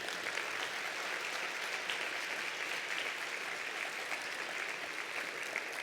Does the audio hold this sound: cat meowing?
no